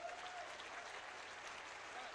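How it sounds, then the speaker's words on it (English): Applause for a robot team at a hacker conference award ceremony, a faint, steady hiss of many hands clapping from a distant crowd, with a voice faintly heard beneath it. "big round of applause for these guys"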